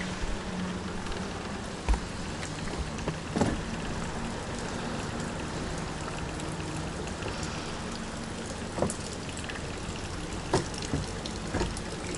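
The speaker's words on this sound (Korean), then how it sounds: "비가 예보와는 다르게 그치질 않네요." Steady rain falls on water around a floating fishing platform, a dense, even hiss with occasional louder drips and taps close by, and no voices.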